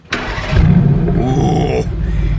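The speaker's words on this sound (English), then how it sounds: "Pedro, you're getting a cold start on this one" A 2018 Mercedes-AMG GT R engine cold-starts: a brief starter crank, then a sharp loud flare that settles into a rough, high, steady idle, close up.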